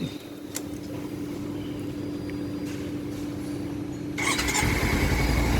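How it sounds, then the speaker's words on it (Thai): A 2017 Kawasaki Versys X300 motorcycle engine with stock exhaust turns over and fires up near the end, its rough idle swelling over a quiet background hum. "เดี๋ยวลองมาสตาร์ฟังเสียงเครื่องดีกว่าครับ"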